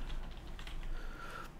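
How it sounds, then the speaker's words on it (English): Typing on a computer keyboard, a short quick run of soft key taps at close range with no talk. "So let's just type in here chest."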